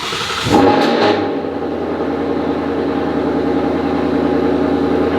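A manual transmission car cranks briefly and fires up, the engine catching with a short loud burst before settling into a steady, throbbing idle nearby.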